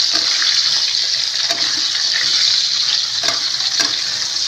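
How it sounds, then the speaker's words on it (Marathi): Bell peppers sizzle in hot oil with roasted garlic in a frying pan, a steady hiss of frying punctuated by a few soft scrapes and clinks from stirring, with no talking. "आता मी शिमला मिरची घालते मिक्स करते"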